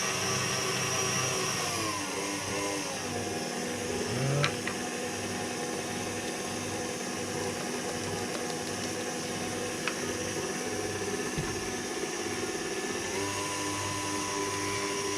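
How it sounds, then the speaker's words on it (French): An electric mixer whips egg whites for a dacquoise sponge, a steady loud motor whine running throughout, with brief pitch shifts and a couple of faint clicks. "je vais pouvoir ajouter le dernier tiers pour terminer de serrer les blancs d'œufs"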